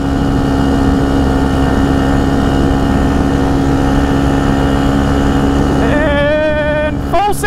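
A Husqvarna FC250 motorcycle engine runs hard and steady at high revs in top gear, close and loud, then bounces off the rev limiter with a wavering, stuttering whine near the end.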